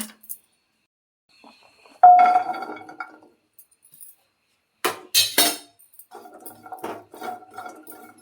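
Chopped jackfruit seed pieces dropping and clinking against a pan as dry roasting begins, with a brief clatter followed by lighter, scattered rattling and scraping.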